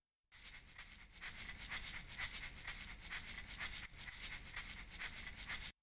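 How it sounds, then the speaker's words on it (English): Dry, unprocessed shaker sample with a bright, harsh hiss, shaken in a steady, continuous rhythm of rapid swishes, close and loud on its own. "Originally, without all the effects, the shaker sounds like this."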